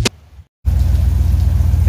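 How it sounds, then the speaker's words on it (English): Steady outdoor rain hisses close and loud after a short pause. It follows a brief burst of noise, and the downpour then holds constant to the end. "Rain. It's here."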